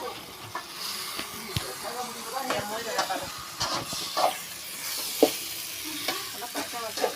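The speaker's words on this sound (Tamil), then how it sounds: "சிம்மில் இருந்து நார்மலில் வச்சுட்டு நல்லா கிண்டி விடுங்க" Masala paste sizzling and frying in a pan while being stirred steadily, with scraping and spoon strokes over a constant hiss, close and fairly loud.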